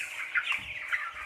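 Twenty-day-old broiler chickens in a farm house clucking and chirping together as a dense, high-pitched flock chatter, steady and fairly close, with no speech.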